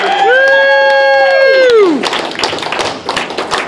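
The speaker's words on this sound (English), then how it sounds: "Keep that applause going for one." A comedy open-mic audience breaks into applause and cheering as a strong tonal sound rings out and slides downward, then scattered claps and shouts continue loudly.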